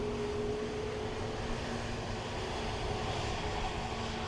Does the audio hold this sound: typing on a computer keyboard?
no